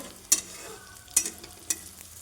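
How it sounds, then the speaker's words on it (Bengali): Whole cumin and a five-spice mix fry in hot oil, giving three sharp, close crackling pops spaced apart over a faint background hiss. "প্রথমে তেল গরম, তারপরে গোটা জিরে 5 ফোড়ন ফেলে দিলাম"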